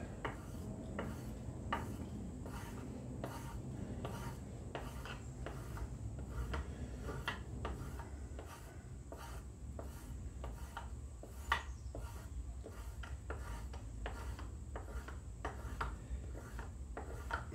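A wooden spokeshave blade is rubbed back and forth on a handheld strop to take off a burr, giving soft, repeated scraping strokes in an even rhythm, close and fairly quiet, with one sharper knock partway through and no talking.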